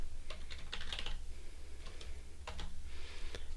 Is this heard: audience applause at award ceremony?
no